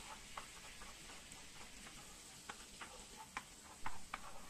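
A spoonful of tomato paste sautéing in hot melted fat in a pan, giving a soft, steady sizzle broken by scattered ticks and clicks from stirring.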